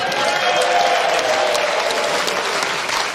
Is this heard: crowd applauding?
yes